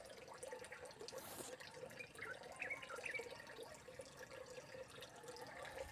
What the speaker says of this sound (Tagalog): Tuloy-tuloy yung tubig.